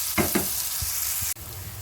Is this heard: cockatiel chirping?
no